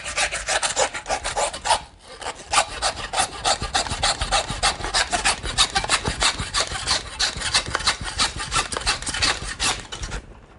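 A 4-inch fillet knife draws down the middle of a hanging deer carcass, producing rapid, rhythmic rasping strokes that are close and loud, broken by one short pause.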